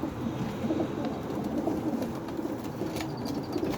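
Pigeons in a loft coo in low, murmuring calls that overlap amid steady rustling and faint chirps from a flock, close and continuous.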